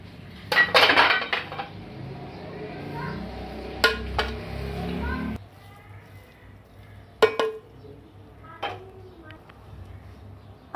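Metal clanks and scrapes as a lid is lifted off a cooking pot of chicken kofta biryani, a busy cluster of clatter at first, then sparser clinks and knocks against the pot in a quiet kitchen.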